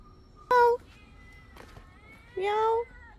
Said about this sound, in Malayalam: അതെ പൂച്ച